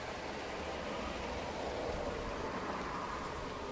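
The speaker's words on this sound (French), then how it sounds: "il pleut de plus en plus." Rain falls outdoors in a steady, even hiss that grows slightly fuller, with no voices.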